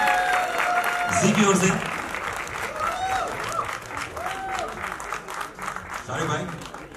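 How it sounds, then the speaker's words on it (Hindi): An audience at a Bollywood film trailer launch for Gadar 2 breaks into applause, a dense patter of clapping with a few cheers, while a host speaks over it. "शारिक साहब एक बार जोरदार ताली चाहिए"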